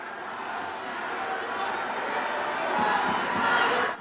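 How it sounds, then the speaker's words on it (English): Large crowd at a Donald Trump rally in Orlando, Florida, a broad steady roar of many voices with scattered cheers that swells slightly toward the end, far-off and diffuse. "Man, that's a big crowd"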